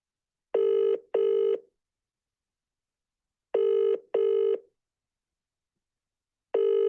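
A telephone ringback tone sounds on an outgoing call, steady buzzing double bursts repeating about every three seconds, clear and alone with no talk.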